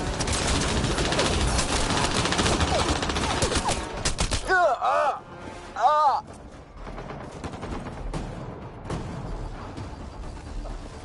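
Dense gunfire in Mass Effect Andromeda combat: rapid automatic bursts crackle loudly, break off briefly, then resume in sparser shots while soldiers shout over the fighting.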